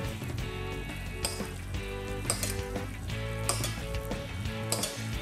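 Figs sizzle loudly in a pan of caramel while being basted, a dense crackling fry with repeated sharp spoon clinks and scrapes against the pan, close up and without speech.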